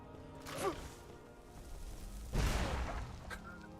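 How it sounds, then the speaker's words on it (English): A fireball spell strikes a wolf in Skyrim, landing as a loud whooshing burst with a crash and rumble near the middle, preceded by a smaller impact and followed by fading crackle. "Just a fireball to the face."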